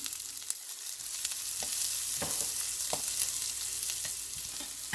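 Chopped garlic leaves fry in a pan with a steady, moderately loud sizzle, punctuated by irregular scraping taps of a spoon stirring them around, with no voices.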